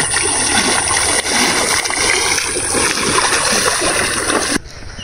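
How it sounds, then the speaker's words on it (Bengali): Water splashes and churns steadily as someone wades across a canal, a close, continuous sloshing that cuts off sharply near the end and leaves only quiet background. "এখন ভিজে ভিজে এই খালটা পার হতে হবে।"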